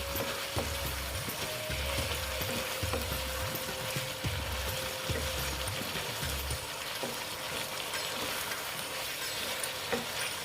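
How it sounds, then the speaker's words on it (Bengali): Cauliflower and potato are sautéed in a pan, with a soft continuous sizzle and a rhythmic, regular scraping of stirring for the first several seconds before the stirring stops and only the quieter sizzle remains. "একটু আস্তে আস্তে কষিয়ে নিচ্ছি"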